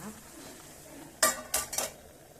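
A metal lid set onto a pot of banana blossom chutney cooking on the stove: after a quiet simmer, a few sharp metallic clanks and rattles come in quick succession near the end.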